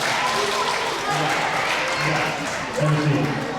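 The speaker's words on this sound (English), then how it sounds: "Give these guys a round of applause." Elementary school children at an assembly clap together in a steady round of applause, moderately loud and close, with a few voices mixed in.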